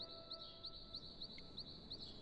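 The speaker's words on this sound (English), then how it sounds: "Birds chirping and whatnot." Video game starter ambience of birdsong: a faint, regular series of short high chirps repeating about every third of a second over a quiet background hiss.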